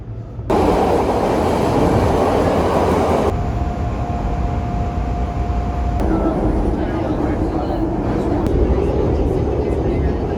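A loud, steady rumble and clatter of a train passing close by, continuous throughout, with a faint high whine drifting in midway.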